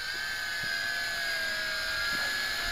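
A Tarantula X6 drone's motors whine steadily as it comes in to land with throttle reduced, a loud, close, continuous high-pitched buzz with a faint pitch drift.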